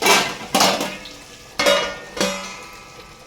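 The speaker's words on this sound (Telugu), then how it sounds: "ఇలా కలిపేసి మూత అనేది పెట్టేసుకుందాం" Chicken masala is stirred in a metal pot and a lid is set on it, producing several sharp clanks and scrapes of utensil and lid against the pot, close and loud, with no voices.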